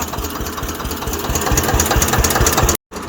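A tractor engine runs close by with a steady, rapid knocking idle rhythm, loud and continuous, briefly cutting out near the end before resuming.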